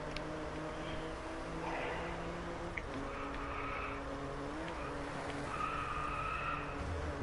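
A BMW in a racing video game skids with a thin, sustained tire squeal layered over a steady engine drone, the screech rising and falling in a few stretches at moderate loudness.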